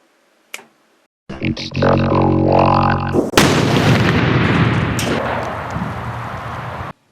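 Professional fireworks blast loudly in a continuous barrage of booms and crackling bursts, starting after a brief pop and running for several seconds before stopping abruptly.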